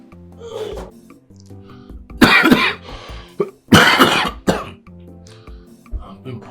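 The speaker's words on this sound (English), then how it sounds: "I have this severe cough." Two harsh, bursting coughs from a person suffering a severe cough, loud and close, separated by quieter breathy sounds and faint low background noise.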